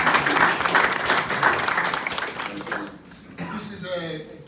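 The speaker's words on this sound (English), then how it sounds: "a round of applause for Adam and SIteStory." Audience applause at a traffic management members' meeting in Victoria, a dense patter of clapping for about three seconds that thins out, with a voice speaking over the end.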